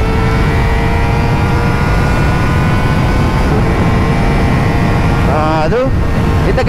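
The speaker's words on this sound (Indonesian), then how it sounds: "Dia kena maintain high RPM macam ni, baru dia baru rasa laju dia." A Modenas ZX-25R motorcycle engine held at high RPM gives a steady, loud, dense drone through the whole stretch, with someone talking over it near the end.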